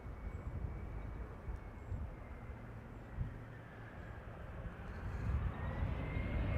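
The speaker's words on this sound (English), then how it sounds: "That's KLM Flight 682 arriving from Vancouver." A KLM airliner arrives at Amsterdam Schiphol from Vancouver, a broad steady jet roar holding at moderate level and swelling slightly toward the end, with no talk over it.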